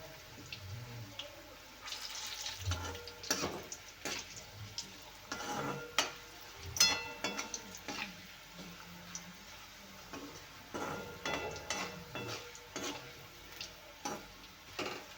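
Pieces of bitter gourd fry in oil with a faint, steady sizzle, punctuated by repeated utensil scrapes and clicks as they are stirred and turned; no voices.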